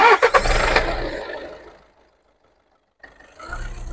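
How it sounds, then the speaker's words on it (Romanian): A Volkswagen Golf 6 TDI diesel turns over and fires up loudly with a few sharp cranking knocks, then settles into a steady clattering idle that fades to silence before the engine rumbles again. "Se aude ca un TDI adevărat."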